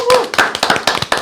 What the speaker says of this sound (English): Do you want to give them a round of applause